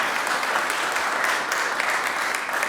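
Applause at a city council meeting in Anacortes, a steady broadband wash of many hands clapping from a room full of people, filling the whole moment at an even loudness.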